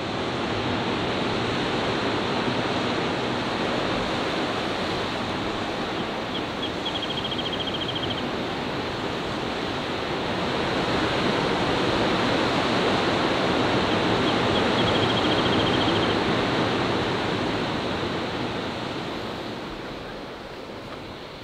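Pacific Ocean surf at McWay Falls tidefall in Big Sur, California, a continuous loud wash of breaking waves that swells in the middle and fades slightly at the end.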